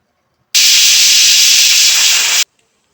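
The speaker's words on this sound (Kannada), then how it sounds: "ಈಗ ಮೂರು ವಿಶಿಲ್ ಆಗಿದೆ" A loud, steady hiss of steam bursts from a pressure cooker whistle while cooking black chickpeas, holding for about two seconds before cutting off abruptly.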